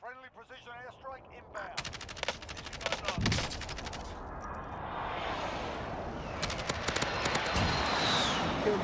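Precision airstrike explosions in Call of Duty Warzone arrive as rapid bursts of sharp blasts and crackling gunfire, followed by a rising roar of debris and rumble, with a game voice speaking briefly at the start.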